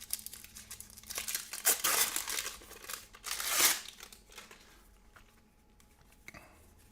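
Plastic shrink wrap being torn and crinkled off a board game box, close and fairly quiet, with a few sharp ripping bursts among softer rustling that fades out toward the end.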